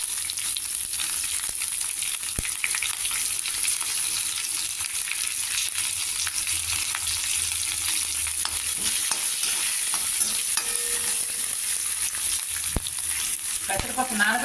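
Green chilies and small ginger pieces fry in hot oil for a banana stem curry, giving a continuous, even sizzle with occasional soft stirring clicks and a brief clatter near the end.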